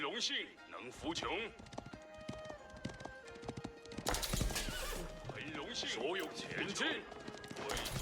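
Horses in a strategy video game, with repeated neighing and whinnying over busy battle clatter and hoofbeats, mixed with game effects throughout.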